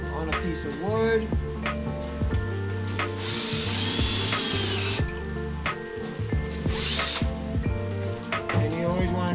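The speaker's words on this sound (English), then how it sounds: "Always drill on a piece of wood." A power drill bores a hole into a wood block, its motor whine rising in two sustained bursts with brief gaps between, close and loud over a steady workshop hum, during work on a Honda motorcycle.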